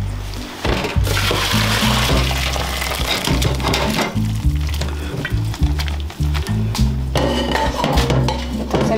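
Hot water from boiled cauliflower poured off through a strainer in a Guatemalan home kitchen, a loud, steady rushing and splattering stream over background music.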